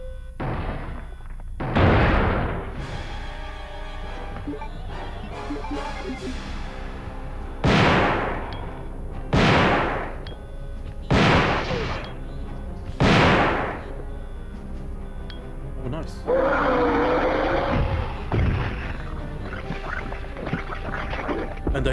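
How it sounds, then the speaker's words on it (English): Shotgun blasts in the Nintendo 64 version of Resident Evil 2, five or six loud, sharp booms spaced a couple of seconds apart, each with a short decaying tail, amid game ambience and a hissing burst near the end. "I should use the shotgun."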